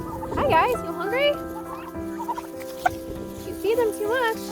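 Free-range farm turkeys make chirpy, squeaky yelps and clucks in overlapping bursts close by outdoors, with a steady low background hum.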